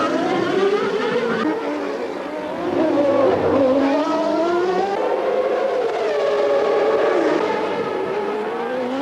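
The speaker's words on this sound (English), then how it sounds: "Mansell is going like the wind. He catches Boutsen up once more" Formula One cars race past, a Ferrari chasing a Belgian driver's car, with high engines wailing and sweeping in pitch as they rise and fall through gears, loud and continuous throughout.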